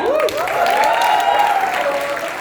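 An audience at a book launch event in Mumbai applauds with a steady, dense wash of clapping, and a voice rises briefly over the noise.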